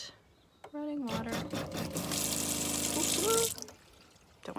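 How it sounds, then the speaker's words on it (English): Water runs from the tap into a large sink in a camper van, a close, hissing rush lasting a couple of seconds, with someone talking over it. "And then our big sink and running water."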